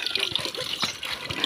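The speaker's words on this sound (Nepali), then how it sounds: "धारा आएको आएकै 24 घन्टा पानीको सुविधा" Water gushes continuously from a household tap with a round-the-clock supply, used for washing: a close, steady rushing splash with slight fluctuations and no clear speech.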